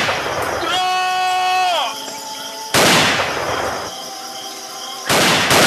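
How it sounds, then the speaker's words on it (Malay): Loud gunshots crack out, one sharp blast followed by another a couple of seconds later, with a tonal whine sweeping down between them. "Kapten Zainal telah melepaskan tembakan pertama"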